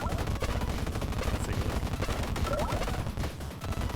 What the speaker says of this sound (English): This weapon shreds so many bullets and it's so fast.